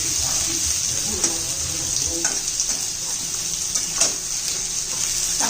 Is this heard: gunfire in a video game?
no